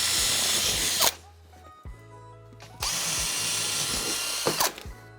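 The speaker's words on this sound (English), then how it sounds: "drill some clearance holes in there right the way through to the concrete board" A power drill whines in two bursts drilling clearance holes through a batten to concrete board, separated by a brief pause with lower mechanical hum, close and loud.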